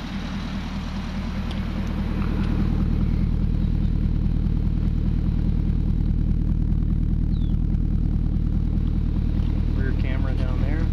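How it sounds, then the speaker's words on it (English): The V8 exhaust of a 2010 Porsche Cayenne S idles close by with a deep, steady burble, growing slightly louder after the first couple of seconds and holding even to the end. "This is a V8 engine. Let you hear the exhaust here."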